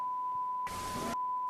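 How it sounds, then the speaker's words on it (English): A steady censor bleep tone cuts in over dialogue, a single loud electronic beep lasting about half a second before dropping back to a lower hum. "It's one big beep."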